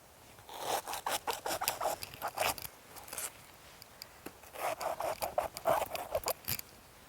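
A blade cuts through a fibrous banana plant stalk in the garden in two bursts of rapid, close, crunchy slicing strokes separated by a short pause, with no talk.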